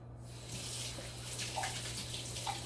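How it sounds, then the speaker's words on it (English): Hands being washed under a running tap, with a steady, soft rush of water close by and a few faint splashes, no voices. "But first, I'm going to wash my hands."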